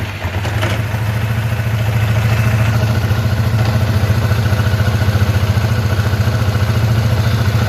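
A Polaris Sportsman 550 ATV engine runs at a steady idle after an oil change, with a close, even, low throb and light mechanical clatter throughout and no talking.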